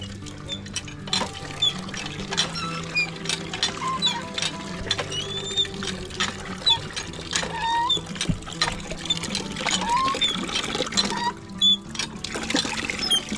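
Alkaline drinking water pours and trickles in a steady stream, a light continuous splashing patter with scattered small clinks and squeaks over a low background hum, no talk.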